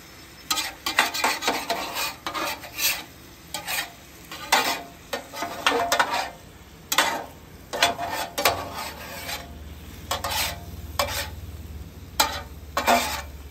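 Peach moonshine sauce reduces on a Blackstone griddle, with rapid, irregular metal spatula scrapes and taps over a light sizzle that swells to a steadier hiss toward the end.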